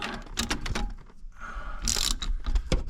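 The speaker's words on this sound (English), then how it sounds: "And get ratchet." Ratchet tightening a bolt on a Dodge Aspen, a close series of quick clicking pawl bursts in uneven groups with brief pauses between strokes.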